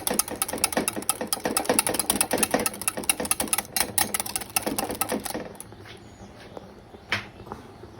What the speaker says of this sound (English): Continue whisking it for another 5 minutes more.